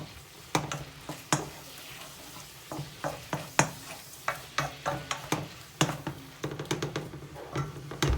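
Teriyaki chicken stir-frying in a pan, with repeated sharp scrapes and clacks of a utensil over a soft sizzle, close and irregular throughout.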